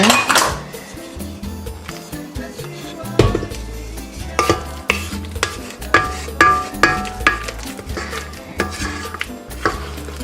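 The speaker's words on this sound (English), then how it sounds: "I'm going to stop it to scrape the sides with my wooden spoon" A wooden spoon scrapes and knocks around a mixing bowl holding churro dough, making a loose, uneven run of clatters and scrapes with a steadier rhythmic knocking toward the end, close and fairly loud.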